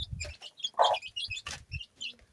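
Small poultry chicks, newly hatched in a home incubator, cheep in short high calls close by, with faint clucking and a low murmur of voices at times.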